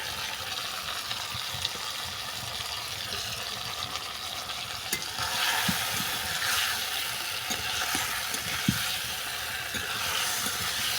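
Fried potatoes and taro are stirred into a sizzling chicken curry, a steady frying hiss under soft, irregular spoon scrapes and clicks, louder in the second half; no talking.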